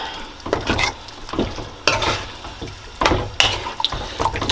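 Curry shrimp is stirred in a pot, giving loud wet, sloshing scrapes in uneven bursts about every second, with a sizzling bubbling underneath and no talk.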